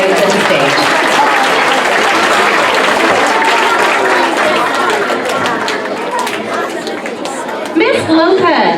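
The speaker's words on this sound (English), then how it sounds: "Let's give them one last round of applause as they exit the stage." A school awards-ceremony audience applauds as students leave the stage, with dense sustained clapping mixed with crowd chatter and footsteps, loud and close before tapering off near the end.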